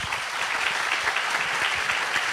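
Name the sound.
congregation applause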